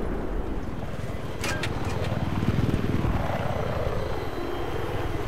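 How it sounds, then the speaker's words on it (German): Helicopter flying over a Battlefield 3 multiplayer battlefield, a steady loud rotor and engine drone that swells in the middle, with brief high whines and shots mixed in. "Oh, Helikopter!"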